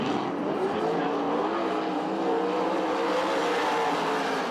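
Sprint race cars at a dirt track in Perris, California restart a heat race, their engines a steady, broad roar that stays distant and constant throughout.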